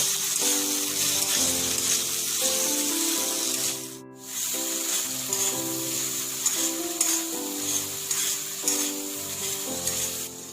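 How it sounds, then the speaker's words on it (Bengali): Chopped tomatoes frying with onions browned red in a pan for a simple chicken dish: a continuous close hiss of frying with a brief dip midway, and a tonal hum running underneath. "এবার এর মধ্যে দিয়ে দেবো টমেটো কুচি। টমেটো দিয়ে আরো 2 মিনিট মতো ভেজে নেব।"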